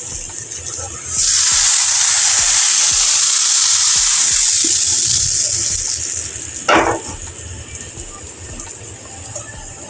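Appam batter made from ration rice is ladled into a hot pan and hisses in a loud, steady sizzle that swells after the pour and then gradually fades, with no talk.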